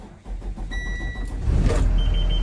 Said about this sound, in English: Start the bus.